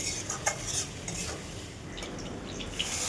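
Potatoes sautéing in a pan with ground spice paste being stirred in, a steady low sizzle under scattered scraping and clinks of a utensil against the pan, close and moderately quiet.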